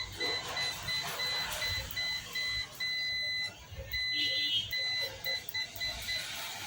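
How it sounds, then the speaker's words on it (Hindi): A HOKI M9 auto multimeter beeps in continuity test mode, giving repeated short high electronic beeps in quick bursts with brief pauses, fairly quiet, with faint background noise. "ये तुरंत, ऐसे भी करेंगे तो भी ये तुरंत जल्दी जल्दी हमें बीप साउंड सुनाई देगा।"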